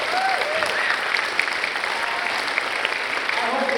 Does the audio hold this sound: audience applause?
yes